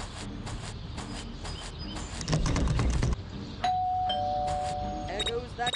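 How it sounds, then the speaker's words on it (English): A doorbell rings in the video game Scary Teacher 3D, a sustained electronic tone following some clattering and footsteps, with voices talking around it. "There goes that stupid bell again."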